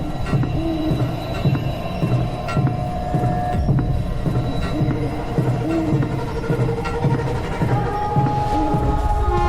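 A train pulls away, a steady low rumble and rhythmic throbbing of railcars rolling on the tracks with faint squeals and clanks, continuous and close throughout.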